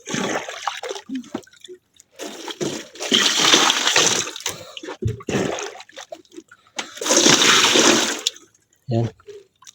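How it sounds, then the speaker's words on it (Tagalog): Water poured into a container on a longline fishing boat, sounding as splashing gushes in two louder bursts between quieter trickles, with people talking in between. "Dagdagan to ng tubig."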